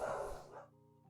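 A short, muffled dog bark or two, fairly close, trailing off into a quiet background hum.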